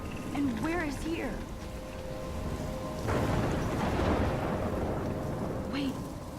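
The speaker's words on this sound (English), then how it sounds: "I'm trapped in a storm?" Stormy rain from the video game Life is Strange hisses steadily throughout, swelling into a louder rumbling surge midway, with a voice speaking over the opening and end.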